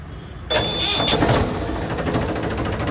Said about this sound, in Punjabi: ਲੋ ਜੀ ਆਵਾਜ਼ ਸੁਣੋ ਟਰੈਕਟਰ ਦੀ